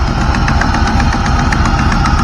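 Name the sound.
exhaust leak popping on 1997 SS Camaro engine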